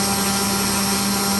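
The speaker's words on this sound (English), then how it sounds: "the motor hasn't stopped." Electric motor of a Super Chipmunk RC model plane running on a bench test, a loud, steady, unbroken whine with a constant droning hum and a high tone held throughout.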